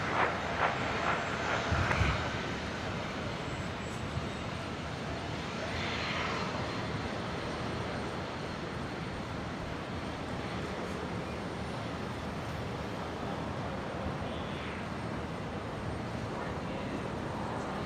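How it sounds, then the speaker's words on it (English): A Qantas Link Embraer jet takes off from runway 01 right at Brisbane airport, a steady broad engine roar heard from a distance, with talk faintly underneath. "that other Embraer, Qantas Link 1965, just cleared for takeoff"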